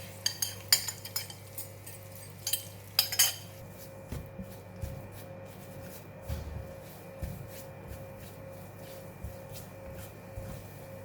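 Egg and butter being stirred in a pan with curry leaf while cooking salted egg yolk for fried tofu: sharp metallic clinks of a utensil against the pan early on, then soft scraping and tapping strokes.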